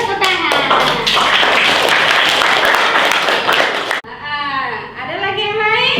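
Loud, dense applause fills a classroom, with many hands clapping at once for several seconds before cutting off, followed by voices.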